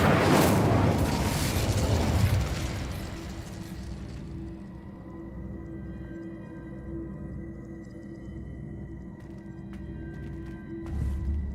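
Incendio fire spell cast in Hogwarts Legacy: a loud burst of whooshing, crackling flame for about two seconds, fading into a low ambient hum with a faint thump near the end.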